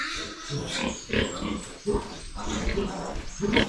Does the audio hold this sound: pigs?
yes